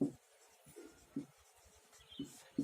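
Chalk or marker strokes on a board during a matrix maths lesson, a few short scratchy bursts spaced irregularly, fairly close and quiet with no talk over them.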